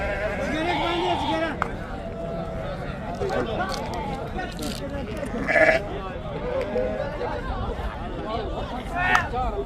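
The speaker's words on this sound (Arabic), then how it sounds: "سوق غنم كركوك" At the Kirkuk sheep market, sheep bleat in short, scattered cries amid a constant hubbub of crowd chatter and nearby voices talking.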